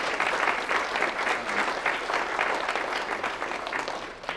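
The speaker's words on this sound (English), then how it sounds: "You've had a round of applause, everybody." Applause from an audience at a Christian Business Network talk, a steady dense wash of clapping heard alone for a few seconds at moderate distance.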